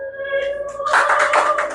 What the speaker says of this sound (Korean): 여기까지만 듣고 박수 한번 주세요